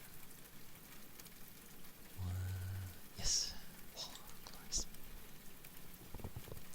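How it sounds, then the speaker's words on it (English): Soft, steady rain patters on a surface as a continuous background hiss in a quiet ASMR setting, while a person speaks gently over it. "Like the rain sounds."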